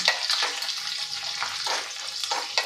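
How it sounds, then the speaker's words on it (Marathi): Nine or ten garlic cloves sautéing in a pan for dhaba-style lasuni whole masoor, a steady close sizzle with crackling bursts as they are stirred, with no talking. "नऊ ते दहा लसूण पाकळ्या घालायच्या आहे ह्यासुद्धा छान अशा परतून घ्यायच्या आहे"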